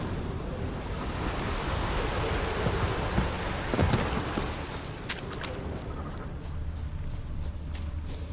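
Heavy rain pours steadily through a Witcher 3 storm, with a low rolling rumble of thunder swelling near the middle and scattered sharp raindrop ticks toward the end; no voices.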